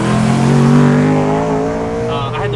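A BMW M3 fitted with a new aftermarket exhaust drives with a loud, steady engine drone whose pitch climbs slightly and then eases off, heard close up with a voice talking over it.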